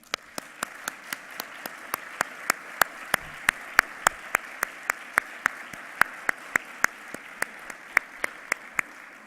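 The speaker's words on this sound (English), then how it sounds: "I want to take just one moment to ask you to applaud" Evenly spaced sharp claps ring out one after another in a steady rhythm at an academic geography association address, a single clear clapping pattern over a faint crowd murmur, fairly quiet and with no voices.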